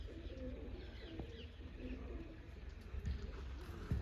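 Soft, low cooing of pigeons or doves repeats over a steady outdoor background murmur, with no clear speech.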